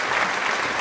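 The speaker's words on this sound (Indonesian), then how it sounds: "Sekali lagi tepuk tangan dong buat Kak Aska." Brief applause for Kak Aska, a short wash of many hands clapping together at a steady, fairly loud level.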